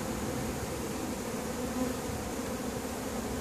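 A newly caught swarm of honeybees at a five-frame nucleus hive makes a thick, continuous buzzing drone up close, steady and unbroken, without speech.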